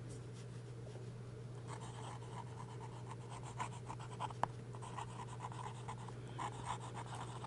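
Close, quiet scratching of a Cross pen's steel nib moving over Rhodia paper in short, uneven strokes, with a faint tap midway and a constant low background hum.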